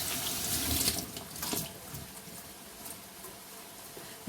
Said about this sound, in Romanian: Acum îl trec la fel sub jetul de apă